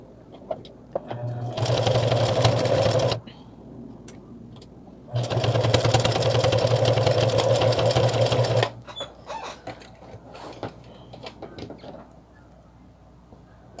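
A sewing machine stitching fabric for a small zippered pouch runs in two steady, humming bursts of about two and three seconds, with quiet handling rustle and clicks between and after.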